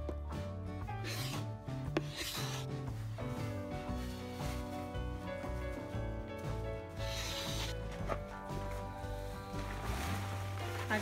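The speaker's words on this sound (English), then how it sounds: "Day three, scraping off the antifouling." Antifouling paint being scraped off a project boat's hull, a continuous rasping scrape with repeated strokes, close and fairly quiet, with no one speaking.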